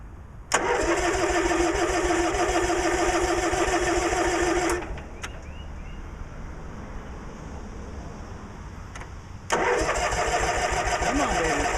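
A Cub Cadet 1862 lawn tractor cranked by its starter in two long, loud bursts separated by a quieter pause of several seconds. The engine whirs but does not catch and run.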